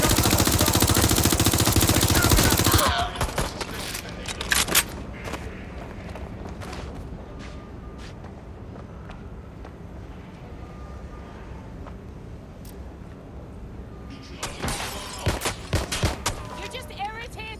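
Gunfire in the video game Watch Dogs Legion, where a shotgun is in use: a loud dense burst of shots at the start, then scattered thuds and reports over ambient game noise, with a renewed cluster of sharp shots near the end.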